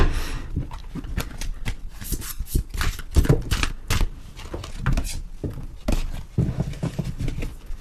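A deck of oracle cards is shuffled by hand during a tarot reading, giving a busy, close run of riffling flicks and soft slaps that continues throughout, with no talking.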